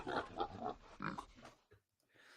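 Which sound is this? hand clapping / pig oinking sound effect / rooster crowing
pig oinking sound effect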